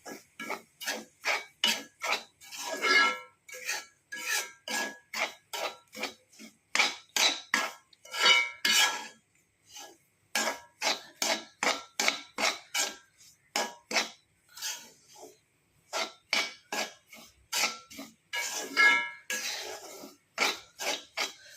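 Semolina (rava) roasting in a pan while being stirred, a long run of rapid rhythmic scraping and clinking strokes in quick bursts with short pauses, close and fairly loud, no talking.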